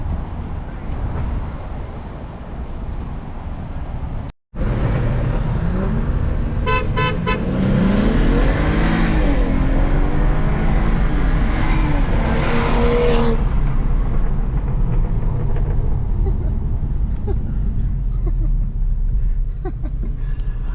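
A loud, rumbling BMW F30 328i engine with downpipe, intercooler and stage 2 tune idles, then revs up hard several times, rising and falling in pitch before settling back to a steady growl.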